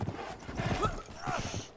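Horse hooves clip-clop in the Uncharted 3 video game, a brief irregular patter of hoof strikes up close, mixed with game sounds and a light voice.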